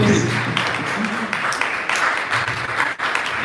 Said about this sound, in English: Could you clap your hands for that?